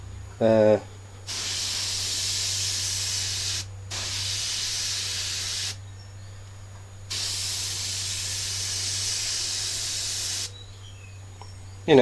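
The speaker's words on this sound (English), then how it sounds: "Obviously this is my old airbrush, so the needle's not perfect anymore" An older airbrush with a worn needle sprays black craft acrylic paint in long steady hissing bursts, three sustained sprays separated by short pauses, close and fairly loud.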